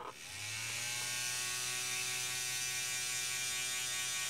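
A homemade tattoo machine motor, powered from a 0.5 amp AC wall adapter, spins up and runs as a steady, close, high-pitched electric buzz with a constant whine, alone and without talking.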